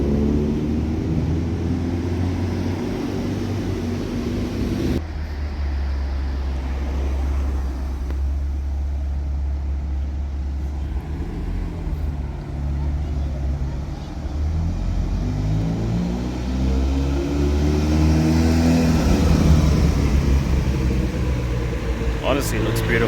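White Ferrari 308 sports cars pass by with a steady low engine drone and a rising, accelerating sweep near the end, under continuous talk and background crowd noise.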